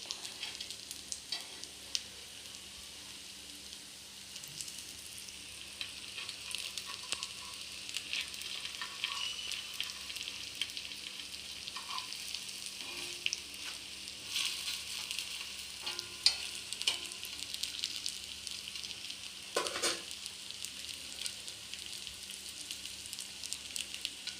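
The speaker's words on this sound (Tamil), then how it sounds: "ஃபிஷ் ஃப்ரை பண்ணுற மாதிரி தான் இது எக்கு ஃப்ரை" An egg fry sizzles in a pan, a soft, continuous crackling hiss with occasional faint stirring sounds, heard alone and fairly quiet.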